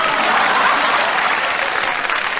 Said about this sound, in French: On l'applaudit pour son imitation de Dalida.